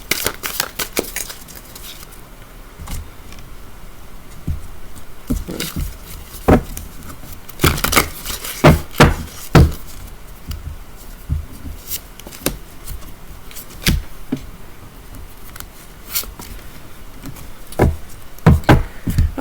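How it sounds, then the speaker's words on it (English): Large tarot cards are shuffled by hand in uneven bursts of papery riffles and soft slaps, close and fairly loud, with irregular pauses between the strokes. "These cards are huge, guys, so don't mind my horrible shuffling."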